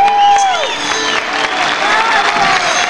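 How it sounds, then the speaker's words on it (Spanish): An audience at a live music event claps and cheers after a song, steady applause filling the space while whistles and voices ring through it. "Muchas gracias por esas palmas, por esos aplausos."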